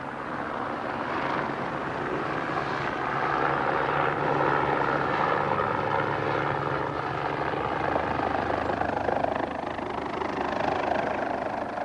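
Flight for Life medical helicopter, a steady loud rotor and engine drone holding evenly throughout with no talk.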